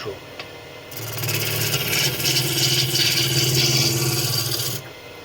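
A wood lathe spins a spalted wood blank at roughly 1100 rpm while a tool cuts it. A low motor hum carries a rough, continuous scraping rasp for about four seconds, then drops back to quieter hum.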